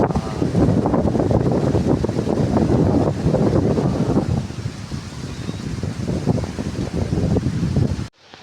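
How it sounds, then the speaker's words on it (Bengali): Strong storm wind roars and buffets steadily against the microphone for about eight seconds, loud and continuous with gusting surges, then cuts off abruptly. "তুফান আই গেছে গাইস, তুফান তুফান আই গেল।"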